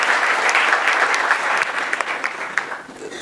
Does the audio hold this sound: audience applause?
yes